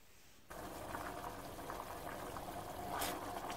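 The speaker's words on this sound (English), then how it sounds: "Now that the mixture is boiling, you can thoroughly stir it." A pot of fish ball mixture with sugar comes to a steady, quiet boil, its soft bubbling starting abruptly and continuing without pause.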